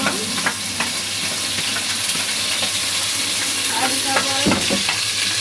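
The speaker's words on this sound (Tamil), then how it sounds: "சரி இஞ்சி பூண்டை போட்டுக்கலாம்." Ginger and garlic fry in a pan for khozli kulambu, a loud, continuous sizzle close by with occasional stirring scrapes and no talk.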